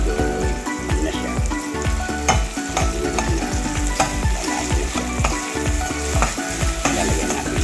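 Tomatoes go into a hot frying pan for a mung bean and round scad dish, a loud, continuous crackling sizzle with stirring scrapes throughout and no talking.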